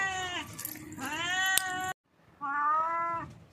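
A cat gives two drawn-out, close meows separated by a brief silence, the second slightly softer.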